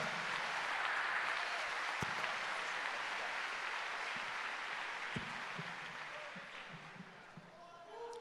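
A church congregation applauds for pastor Gilmar Fiuza, a broad, fairly soft wash of clapping that slowly fades, with a few sharp thumps and speech over it.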